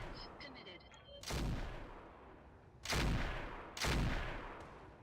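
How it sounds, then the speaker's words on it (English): Mech firing a full weapons salvo in the Roguetech video game, heard as three loud, booming blasts spaced over a few seconds, each fading into a rumbling tail, after a few faint electronic blips. "I'm still going to fire a full salvo"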